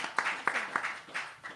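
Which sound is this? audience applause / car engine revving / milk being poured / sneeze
audience applause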